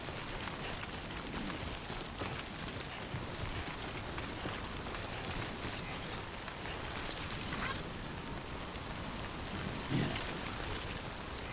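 Timefall rain in the Death Stranding video game, a soft continuous patter of rain on surfaces with faint scattered footsteps, quiet and even throughout.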